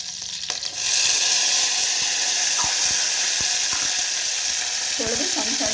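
Curry leaves and mint sizzle loudly in hot oil with mustard seeds, a steady close crackling hiss that starts abruptly and carries a few spattering pops near the end.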